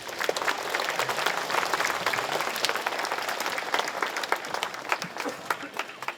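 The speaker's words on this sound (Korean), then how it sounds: "준하경 시장님께 다시 한번 큰 박수를 부탁드리도록 하겠습니다" An audience in a hall at a formal ceremony claps steadily for several seconds. The applause is dense, even and crowded throughout, with no pause, and faint voices sit underneath.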